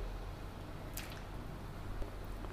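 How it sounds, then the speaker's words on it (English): Jaggery drops into a pot of boiling pepper rasam, giving a continuous soft bubbling hiss with a brief wet splash partway through, close and fairly quiet. "I'm adding the jaggery."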